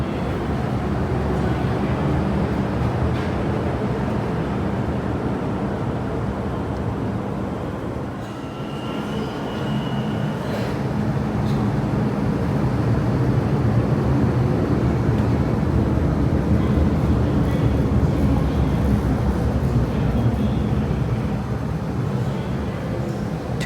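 An MTR train runs at Mei Foo Station in Hong Kong, a loud, steady low rumble with rattling and a brief high whine partway through, continuing without pause.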